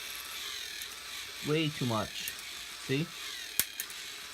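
Short ratcheting clicks of a small K'nex toy motor skipping on plastic gears, under a voice speaking briefly nearby.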